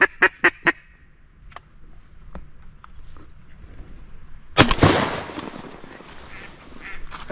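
A shotgun fires at ducks during a riverside duck hunt, one sharp loud blast about midway with a noisy tail, preceded by a few short duck calls over quiet outdoor background.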